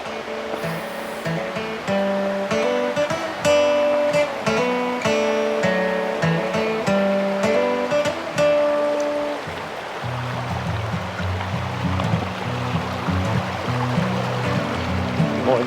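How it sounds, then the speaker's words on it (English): A small mountain creek on the Basin Creek trail to Caudill Cabin in Doughton Park rushes steadily and continuously close by, with tonal sounds layered over the flow. "Hearing all that water makes me want to take a leak."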